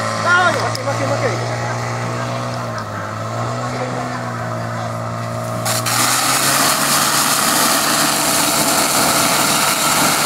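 A small motor engine on a women's sprint or firefighting race team run drones loud and steady with a high whine, under excited shouting and talk, rising and thickening partway through.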